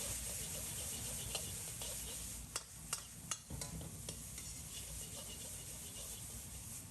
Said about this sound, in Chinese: 开大火，放入拉好油的青椒，开大火快速翻炒5、6、7、8下